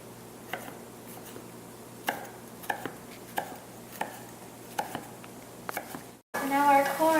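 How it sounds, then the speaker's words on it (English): A knife chops ingredients on a cutting board for esquites, a series of about ten crisp, evenly spaced taps at moderate volume, followed at the end by a louder burst of a voice speaking. "we're going to chop these not too fine"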